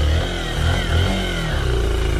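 A Honda Bros motorcycle engine rumbles at close range as the bike crawls over a rough, potholed dirt road, the low, steady throb joined by rattling clatter from the bumpy track.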